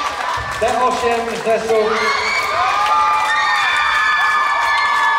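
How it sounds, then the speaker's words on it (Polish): Audience applause and cheering at a show dance formation competition, a loud crowd of whoops and shouts sustained throughout while an announcer speaks over it. "Wielkie brawa."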